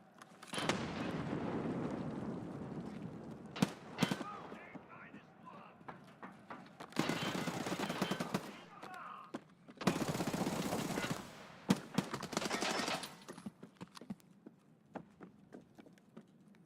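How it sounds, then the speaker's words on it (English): Grenade explosions in Escape from Tarkov Arena come as several loud, broad blasts, each roaring for a second or so, scattered among sharp gunshots, with a player talking over the action. "Oh, grenades, grenades, lots of grenades."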